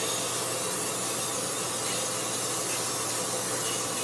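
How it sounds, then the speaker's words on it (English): An exhaust fan runs just above a spray paint booth, giving a constant broadband hiss with a faint low hum underneath, steady and unbroken for the whole stretch. "There's an exhaust fan just about directly above this."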